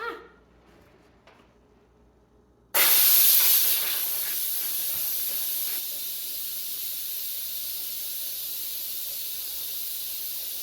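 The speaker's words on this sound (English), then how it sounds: "Our pressure cooker's done. I'm gonna unplug it and we're gonna do a quick release." Steam hisses loudly from a pressure cooker during a quick release, bursting in suddenly after a quiet start and then continuing as a steady, slightly softer hiss through the rest.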